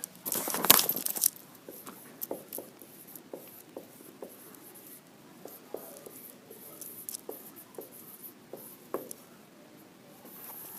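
Pencils scratch and tap on sheets of paper as students in a classroom write out a list. Small irregular strokes stay faint and steady after a brief rustle at the start.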